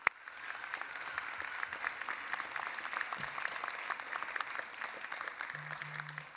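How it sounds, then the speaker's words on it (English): An audience at a high school graduation ceremony applauds school staff, producing dense, steady clapping from a large crowd that sounds moderately distant and continues evenly for several seconds without speech. "we want to give them a big round of applause for all of the work that they have done"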